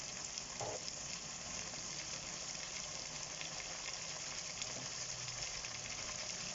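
Ginger and garlic frying with onions and chicken in a pan, a constant low hissing sizzle throughout with a couple of faint stirring knocks, quiet and even, no voices.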